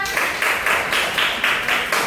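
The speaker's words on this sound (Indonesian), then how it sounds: "Tepuk tangan semuanya." Students in an Indonesian Islamic religious education classroom clap together in a quick, regular rhythm, about eight loud, close unison bursts in two seconds.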